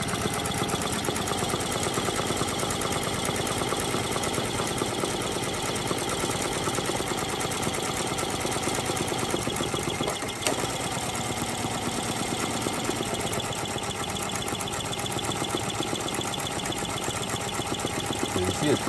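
A Pro maker 15 multi-needle embroidery machine stitches a cap in a steady, dense mechanical whir with a rapid repetitive needle rhythm, loud and continuous throughout.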